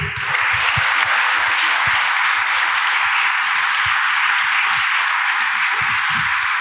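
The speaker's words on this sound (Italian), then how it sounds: "vi prendete l'applauso uno per uno" Sustained applause from an audience at an Italian book presentation for the authors of a Mondadori title, steady dense clapping filling the room for several seconds without talk.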